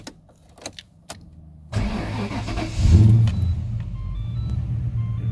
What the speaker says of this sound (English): So technically now I should be able to start the car